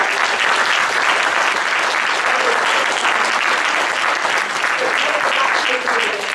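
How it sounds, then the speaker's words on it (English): Sustained, even applause from an audience at a competition event for its finalists, a steady wash of many hands clapping throughout. "give our finalists another round of applause"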